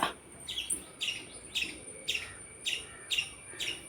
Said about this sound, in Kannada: ಪಕ್ಷಿ ಕೂಗ್ತಾ ಇದೆ